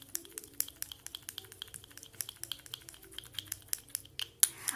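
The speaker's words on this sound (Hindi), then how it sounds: "और इसको अच्छे से हम मिक्स करेंगे।" Homemade eye cream is stirred and mixed in a small container, making faint, quick scraping and clicking taps in an irregular, steady rhythm with no voices.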